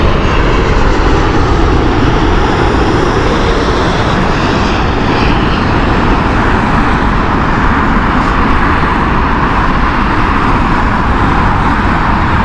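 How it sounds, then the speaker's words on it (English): A LATAM airliner lands at Heathrow Airport with a loud, steady, broadband engine roar that holds constant for the whole stretch. "So let's watch this beautiful Latam coming in."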